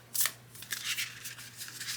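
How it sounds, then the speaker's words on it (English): Tarot or oracle cards being shuffled by hand up close: a sharp riffle burst at the start, then a series of soft papery flutters and slides, alone over a faint steady hum. "So I'm going to shuffle these."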